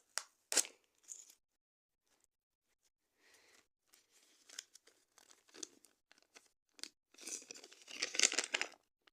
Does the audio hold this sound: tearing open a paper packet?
yes